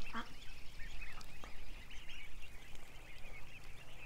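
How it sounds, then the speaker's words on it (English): Ducks quack and honk at a moderate distance in a busy, irregular chorus over faint background noise, with no clear talking. "Let's get back to duckies here."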